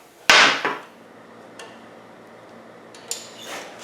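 Metal tools clank while a part is bolted onto a custom motorcycle in a workshop: one sharp loud knock, a softer follow-up, then a few faint light taps and clinks across a quiet room.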